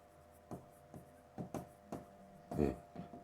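Marker or chalk strokes on a board during an eighth-grade geometry lesson, several short separate taps and scrapes spaced irregularly, close and fairly quiet, with one longer louder stroke near the end.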